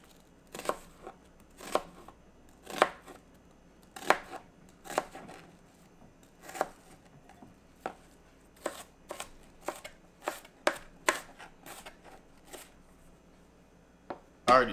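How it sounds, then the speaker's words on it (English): Knife chopping an onion into small cubes on a cutting board, with a long run of sharp, irregular chops, some in quick bursts and some spaced apart, close and clear with no talking. "just chop it up to how fine you want your onions to be"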